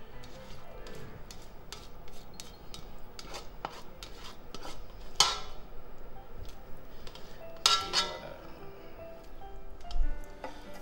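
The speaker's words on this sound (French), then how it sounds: "on va faire toaster toutes les épices" Spices toasting in a pan with meat juices for a Hungarian goulash, a soft steady sizzle broken by clinks and scrapes of a utensil against the pan, close and fairly quiet.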